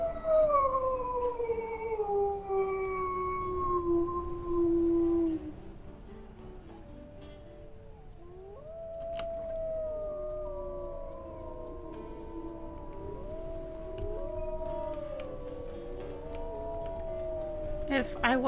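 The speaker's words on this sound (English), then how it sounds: "We're going to howl again right here." In the video game WolfQuest, a wolf gives a long, sliding howl that falls in pitch, then several overlapping howls rise and waver together for the rest of the stretch, clear and fairly close over a faint background.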